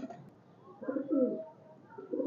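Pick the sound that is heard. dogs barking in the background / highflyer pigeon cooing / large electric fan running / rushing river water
highflyer pigeon cooing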